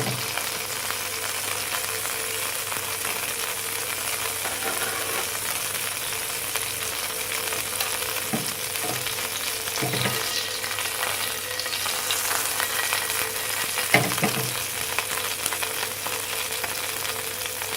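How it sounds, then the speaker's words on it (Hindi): Cumin seeds roast in hot oil for a brinjal bharta, a long, even sizzle heard up close, broken by a few soft stirring knocks and free of talk. "ज़ीरा डालें, जीरे को हल्का सा हमने भूनना है।"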